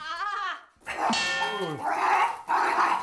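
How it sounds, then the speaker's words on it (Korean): A dog barking aggressively while struggling and thrashing, several loud, harsh close-up barks with a growling, yelping quality in quick succession. "이때 심하게 짖으며 몸부림치는"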